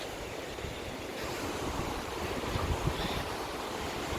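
Ocean surf rolling in a continuous wash on a Visakhapatnam beach, with a gentle swell in loudness midway and some wind noise over the microphone.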